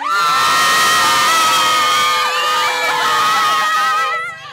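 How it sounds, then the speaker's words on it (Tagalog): Boys in the audience at a party game shout together in one loud, sustained crowd yell that fades out after a few seconds. "Boy, sige nga, sumigaw muna yung mga boy!"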